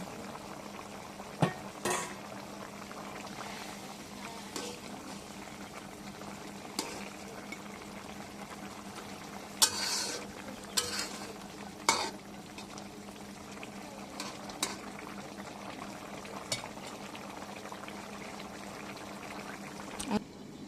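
Pangas fish curry with potatoes bubbles softly in a pot on the stove, a faint low simmer broken by occasional sharp clinks and scrapes as it is stirred.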